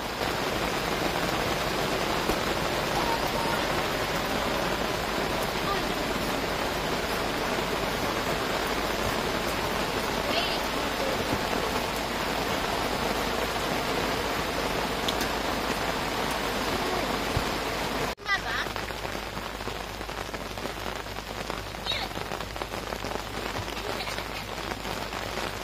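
Heavy rain falls continuously outdoors during a fishing session, a dense, even hiss of drops on surfaces filling the whole clip; a brief knock interrupts it, after which the rain continues slightly quieter.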